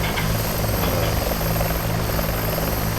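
A Bell 412 helicopter in X-Plane 11 gives off a loud, steady rotor and turbine drone that holds unbroken throughout with no other sounds.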